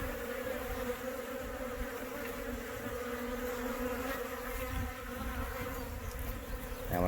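Honey bees swarm and feed at troughs of candy cane sugar syrup, a steady, dense insect buzzing and droning that holds constant throughout, close and fairly loud with no voices.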